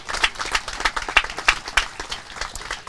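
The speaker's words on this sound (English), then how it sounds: "So please give them a round of applause." At a Memorial Day observance, a small group claps for the youth groups and Girl Scouts. The claps are quick, rhythmic and moderately loud, lasting a few seconds with no cheering.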